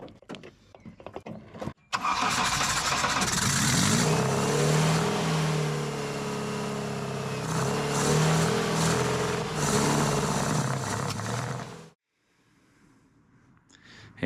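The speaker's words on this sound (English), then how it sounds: "then I'll fire her up and see if she sounds like she's running all four." Ford Escort Mk2 engine fitted with motorbike carburettors, started and running for about ten seconds, a loud close rumbling idle with slight unevenness before it cuts off abruptly to near silence.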